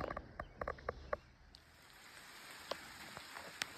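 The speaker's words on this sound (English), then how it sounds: "It's raining pretty good and the sun's shining." Steady rain falls outside during a sunny shower while work goes on restoring a Charger, a soft continuous patter with a few sharper drips and knocks near the start.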